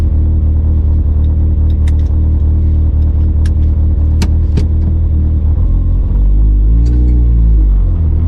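Mitsubishi Evo 8/9 with a newly fitted brake master cylinder brace drives along, a loud steady road rumble from up close, with a deeper engine note rising and falling near the end.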